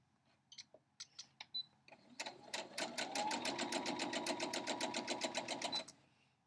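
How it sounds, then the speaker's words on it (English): A sewing machine stitches a quilt block corner to corner, opening with a few separate clicks and short bursts before settling into a rapid, even run of stitches that stops after a few seconds. "you sew a line from corner to corner"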